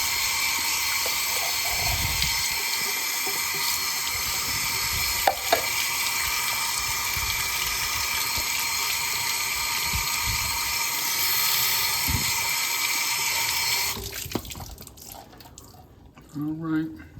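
Beans being rinsed under running water in a colander at a kitchen sink, a steady broad rush of tap water pouring for about fourteen seconds before cutting off, followed by a few faint clatters and drips.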